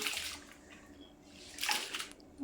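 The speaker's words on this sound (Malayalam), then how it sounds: "രണ്ടും നല്ല വൃത്തിയിൽ തന്നെ കഴുകിയിട്ട് എന്നിട്ട് വെള്ളം ഒഴിച്ച് വെച്ച്" Grain being washed in water gives soft splashing and sloshing in two bursts, with faint drips between them, heard up close and fairly quiet.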